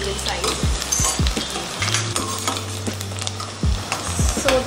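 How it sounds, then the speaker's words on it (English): Finely chopped onions, two medium ones, sizzling in hot oil with whole spices such as cardamom for an Indian chicken curry, a steady loud fry with occasional stirring scrapes and clinks close by, no talking. "And now I'm adding some finely chopped onions."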